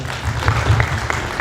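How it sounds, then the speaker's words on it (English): Guests at an alumni meet-up clap briefly, probably during a group photo session, as a steady patter over a low background hum, with no clear voices. "Let's clap those who have joined."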